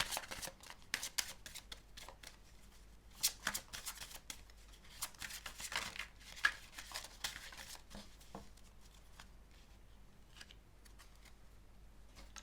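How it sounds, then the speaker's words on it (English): Tarot cards are shuffled in repeated bursts of riffling and soft slaps, close and quiet, with brief pauses between handfuls. "As I was shuffling the cards before"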